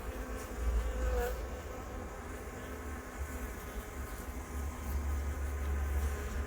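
Honey bees hum steadily at a beehive, a dense continuous buzz close by with slight swells in loudness and no talking.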